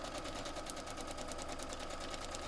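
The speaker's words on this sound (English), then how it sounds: "let's sew this all the way down" A sewing machine runs steadily, stitching through fabric while foundation paper piecing a quilt block, its fast, even needle chatter continuous and close with no pauses.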